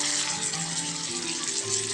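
Koi fish rubbed with salt and turmeric fries in hot soybean oil, producing a loud, dense, steady sizzle up close with no talk.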